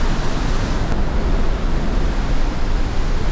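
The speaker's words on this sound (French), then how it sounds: "maintenant on va sous la cascade" Heavy rushing water pours down right over the listener standing beneath a high-altitude waterfall, a loud, constant broadband roar with no pauses.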